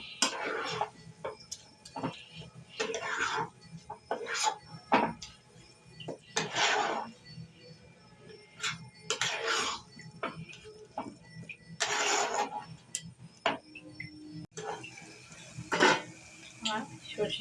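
A spatula scrapes and clanks against a pan as mustard greens sweetened to taste are stirred and dried out, in irregular bursts of metallic scraping with quiet gaps between, close by.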